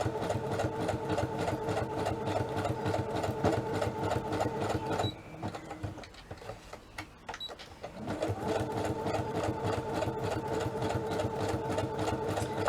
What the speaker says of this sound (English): Gotta say, I'm loving my new sewing machine.